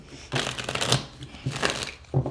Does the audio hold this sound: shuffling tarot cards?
yes